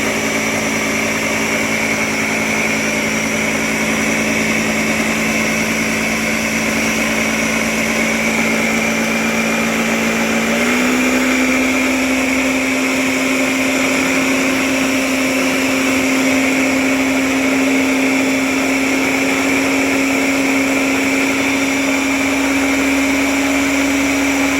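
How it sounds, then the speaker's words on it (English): A kitchen blender runs steadily through peanut butter muffin batter on medium speed, with a loud continuous motor whine whose pitch shifts and steps up partway through, and no talking. "we can also just blend it on a higher speed"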